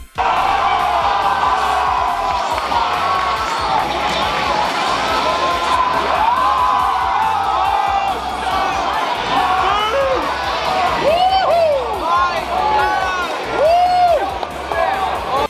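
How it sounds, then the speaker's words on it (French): A packed crowd at a Dragon Ball FighterZ tournament at the Otakuthon 2018 convention roars and cheers hysterically, a sustained loud wall of shouting voices with rising whoops and screams near the end. "j'ai fait l'attaque ultime de Goku et la foule est devenue hystérique"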